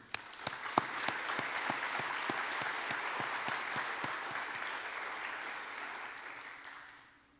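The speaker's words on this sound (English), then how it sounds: "So you all have yourself a round of applause." An audience at a 2021 staff convocation breaks into applause, a dense wash of clapping with a few sharp, louder claps up front, holding steady before fading out at the end.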